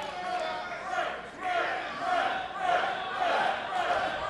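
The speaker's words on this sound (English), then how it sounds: "The crowd are up to that chant of bread." A wrestling crowd chants in a loud, rhythmic, repeated pattern that fills the arena, heard under a commentator talking during a strong-style match.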